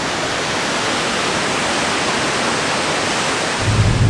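A loud, constant roar of falling water, dense and unbroken, from a waterfall in the Shikoku countryside of Japan heard close by, with a slight low rumble near the end.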